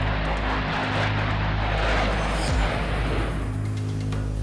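A Harrier fighter jet in flight, a steady loud engine roar with a low droning hum and a brief surge midway, heard alone without speech.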